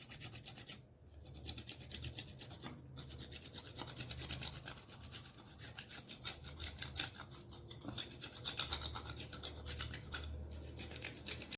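Fine, rhythmic scraping continues as white chocolate is worked onto coffee and chocolate pudding, a dense run of close rubbing strokes with a couple of brief pauses and no speech.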